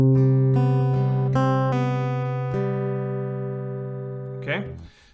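Acoustic guitar picking the final C part of a song, a handful of ringing plucked notes that decay slowly, ending with a brief string squeak, no talking.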